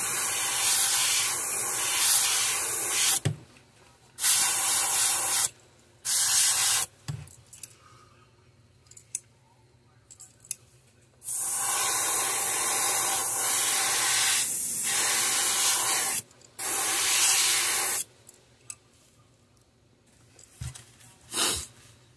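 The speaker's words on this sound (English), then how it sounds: "we weren't spraying these paints just super heavy, just real light." An airbrush sprays paint onto a rainbow trout fishing lure in light coats, giving steady broadband hissing bursts of several seconds each, separated by short pauses and clicks, close to the microphone with no talking.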